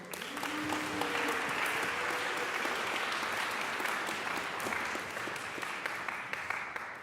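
Steady applause from an audience at a school convocation ceremony, many hands clapping continuously, full and close, with no talk over it.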